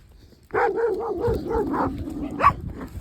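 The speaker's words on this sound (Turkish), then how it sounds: "Şimdi iki tanesi çoban köpeği ya." Several shepherd dogs bark in a quick series of close, loud woofs, followed by a sharper higher bark near the end.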